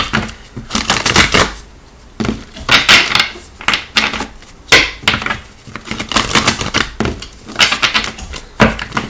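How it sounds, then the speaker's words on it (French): A deck of oracle cards is shuffled repeatedly at close range, making crisp riffling bursts separated by brief pauses in an uneven rhythm, with no voices. "Et le dernier shuffle."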